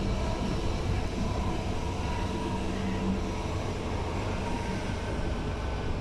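Aboard a West Midlands Railway class 323 electric train in motion, a continuous low rumble of wheels and running gear fills the cabin with a steady, moderately quiet drone.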